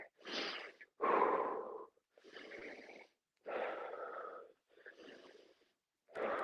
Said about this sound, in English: Breathe deep in through your nose and out through your mouth.